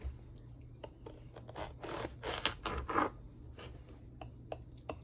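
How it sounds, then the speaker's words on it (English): Knife slicing fresh garden squash into pieces, a series of crisp close cuts and scrapes at an uneven pace, quiet and alone. "I'll cut it in a few more pieces like these"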